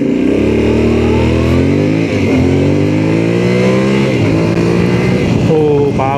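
A 2026 Yamaha Tenere 700 adventure motorcycle on a test ride roars loudly and continuously, its engine climbing in pitch through several gears with brief dips at each shift, and wind noise underneath.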